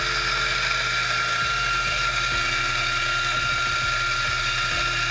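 A DF54 coffee grinder runs steadily and loudly, with a dense whirring, gritty hum as beans are ground close by and no talking.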